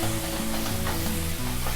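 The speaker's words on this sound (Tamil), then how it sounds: "லோ ஃப்ளேமில் வச்சுட்டு நம்ம நல்லா வறுத்து எடுத்துடலாம் இந்த மசாலாவை எண்ணெயில்." Ground masala for Karaikudi chicken curry fries in oil over a low flame, giving a steady, close sizzle with a continuous low hum underneath.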